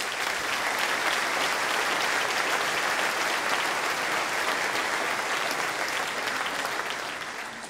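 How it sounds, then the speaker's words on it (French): Warm, dense applause from an audience at a local civic New Year's greetings event, continuous and even throughout before tapering slightly at the close. "on peut vous applaudir, vous le méritez"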